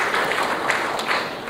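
A dense wash of audience applause fills a conference hall at the Air Cargo India 2016 event, a steady blur of many hands clapping at moderate loudness with no gaps.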